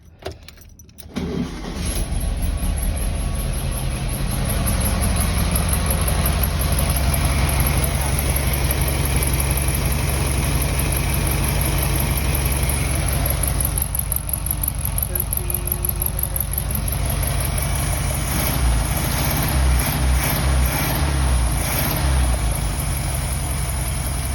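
A 1965 VW Beetle engine fires up from cold with the choke set, catching after a brief crank and settling into a steady, loud idle that runs throughout.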